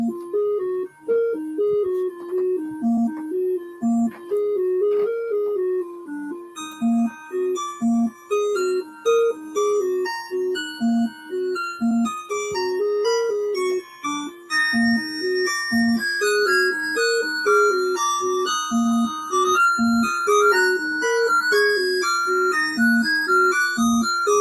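Chiptune-style music loop composed in MML, bright square-wave melodies over a bouncy repeating bass, with more layers joining partway through and playing loudly and continuously without talk.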